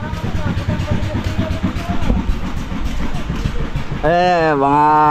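A boat's motor chugs in a steady low rhythmic pulse for several seconds, then a voice cuts in loudly near the end over the fading engine.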